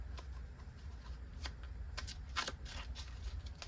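Tarot cards shuffled and drawn for a card reading, a quiet, close riffling and sliding flutter with a few slightly sharper flicks, no speech.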